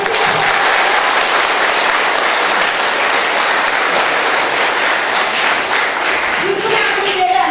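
Audience applause at a Victory Day anniversary event in Salyan, Azerbaijan, a dense, steady clapping from a large crowd that fills the whole stretch without letting up.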